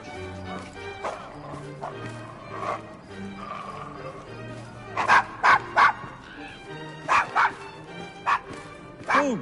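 Desmond, a dog in a PS4 game, lets out a run of sharp, loud barks in several bursts over background game music and ambient noise, with a voice speaking beneath.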